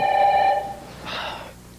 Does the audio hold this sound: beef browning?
no